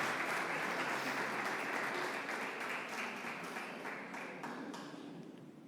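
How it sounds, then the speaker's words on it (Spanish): A church congregation applauds the Lord, a broad, sustained wash of clapping from a large crowd that slowly fades toward the end, heard somewhat distant. "Alguien le da un aplauso al Señor"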